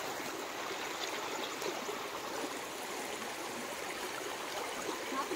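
A small, clear Konkan stream flows slowly, giving a steady, close, even babble and trickle with no break throughout.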